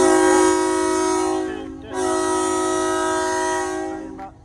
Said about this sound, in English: train about to take off